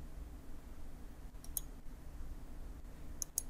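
Sparse computer mouse clicks while working in Autodesk Inventor CAD software: a few faint, sharp single and double clicks spread across a quiet background, with no talking.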